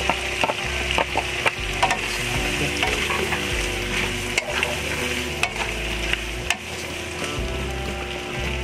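Close, continuous sizzling in a pan as string beans are stirred into frying squash and shrimp, with repeated clinks and scrapes of the spatula against the pan throughout.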